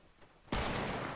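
A single sudden burst of gunfire in a shooter video game, a sharp loud blast that cuts in abruptly and rings out with a sustained crackling tail.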